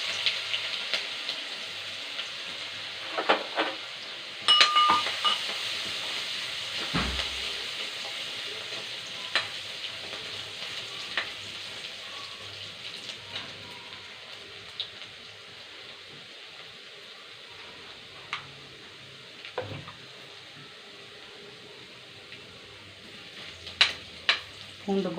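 Garlic and mustard seeds fry in hot oil for a Tamil bottle gourd kara kuzhambu, giving a steady soft sizzle and crackle with occasional sharper pops and stirring clinks, close and alone throughout.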